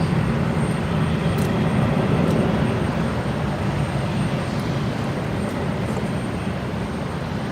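An Emirates Airbus A380 taxiing at Brisbane Airport at night, a loud, steady broadband jet engine roar holding evenly throughout with no pauses, heard close and alone.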